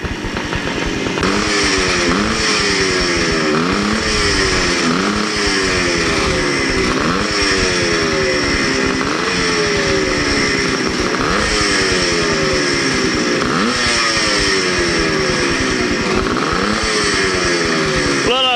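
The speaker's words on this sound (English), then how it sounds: "These old bikes really sound good." Several old two-stroke dirt bikes rev and race nearby in a hare scramble at Hollister Hills, engines rising and falling in repeated high-pitched whines that blend into a continuous loud drone.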